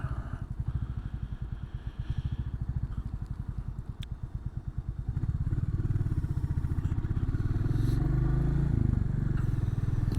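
A motorbike trundles along a local road at modest speed, its engine a steady close pulsing drone that swells louder and rougher partway through, with no talk over it.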